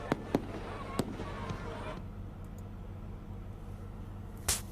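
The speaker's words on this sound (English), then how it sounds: "I told you I'd give you some fireworks." Fireworks sound effect on a live stream: several sharp, loud bangs early on, then a crackling hiss that fades into a quieter wash, ending with one more burst near the close.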